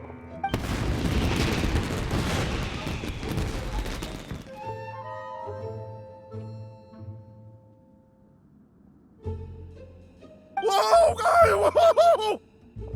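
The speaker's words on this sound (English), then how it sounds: "Yoimiya, this is turning into a bit of a fireworks display" Fireworks burst in Genshin Impact, opening with a dense run of loud crackling booms. A quieter stretch follows, then a second bright, sparkling volley of bursts near the end.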